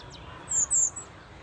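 A single bird gives two short, high calls in quick succession, fairly faint against a quiet outdoor background.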